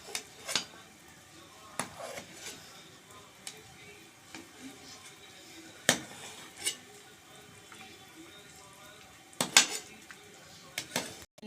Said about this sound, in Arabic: الكارع بتغلي معايا، طلعت الريم بتاعها كده هشيله